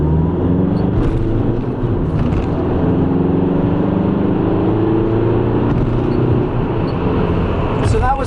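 A Volkswagen TDI diesel car accelerates hard through a 0-60 run, its engine drone rising steadily and continuously with road and cabin noise throughout, heard from inside at close range.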